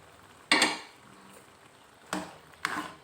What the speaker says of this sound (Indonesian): kita masukkan separuh dulu bawang ini bombay